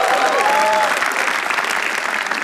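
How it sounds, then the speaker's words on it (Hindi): Audience applause at a stand-up comedy show, a steady wash of clapping from the crowd with a brief voice near the start. "तो एक बार पवित्रा के लिए तालियां हो जाए फिर।"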